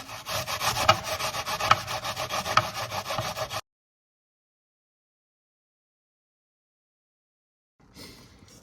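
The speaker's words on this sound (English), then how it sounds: "grating one red onion" Red onion grated by hand against a grater, a rapid rhythmic rasping for a few seconds, then silence and a faint rustle at the end.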